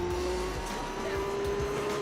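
Racing car engines in Gran Turismo 4 hold a steady droning tone with gritty rumble underneath and brief rising revs, loud and continuous for about two seconds.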